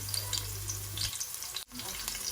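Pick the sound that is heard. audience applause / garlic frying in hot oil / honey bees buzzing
garlic frying in hot oil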